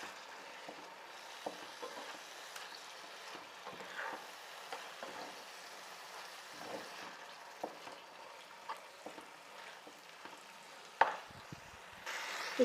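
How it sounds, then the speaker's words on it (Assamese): Chicken dry fry being stirred in a pan, with a steady low sizzle and frequent soft scrapes and clinks as the pieces are turned over, close and continuous. "এখিনি মই লৰাই থাকিম এতিয়া"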